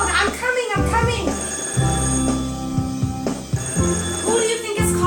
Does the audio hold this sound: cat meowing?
no